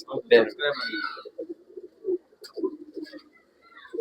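A male Pilanga pigeon coos in soft, low, repeated pulses at close range, while someone talks loudly over much of it.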